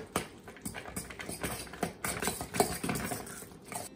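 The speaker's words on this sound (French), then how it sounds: "Le mélange, je le fais avec la fourchette pour pas tout écraser la viande." A fork works through raw minced beef tartare, giving soft, wet, irregular patting and scraping sounds, close and fairly quiet.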